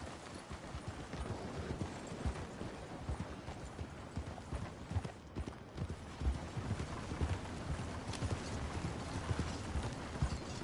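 Horse hooves trot in Red Dead Redemption 2, a steady rhythmic clip-clop at moderate volume that runs throughout with faint tack rattles in the background.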